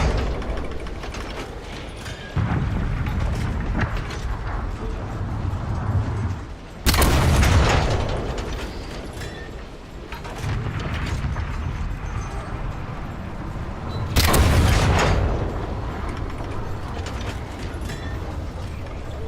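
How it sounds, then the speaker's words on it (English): Cannon blasts in a fast-paced online video game ring out as two loud, booming broadband shots several seconds apart, set against constant mechanical rumble and clanking game noise. "I don't know how this cannon shoots sometimes"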